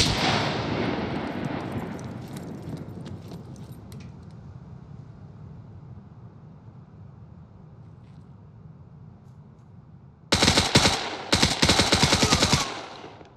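Automatic gunfire in a PvP video game event, with a sustained rumble of distant shooting and then loud, rapid bursts of close machine-gun fire near the end.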